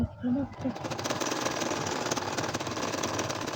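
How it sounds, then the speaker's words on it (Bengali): A domestic sewing machine stitches a nakshi kantha baby quilt, running in a fast, steady mechanical whir after a brief start, with a voice speaking at the very beginning. "এখন দেখেন আবারও সেলাইগুলা করে নিচ্ছি"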